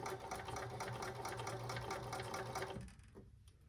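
A sewing machine stitches a drapery hem with fast, even mechanical chatter, close and steady, then slows and stops near the end.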